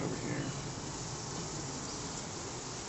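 A close, unbroken hum of many bees fills a top bar barrel hive during an inspection, steady and even in loudness throughout with no speech.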